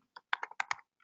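Quick keystrokes clatter on a computer keyboard, about six crisp close clicks in a short burst, with no voice over them.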